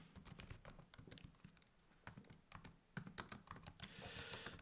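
Quick bursts of typing on a computer keyboard, close and crisp, with irregular clusters of key clicks and short pauses between them.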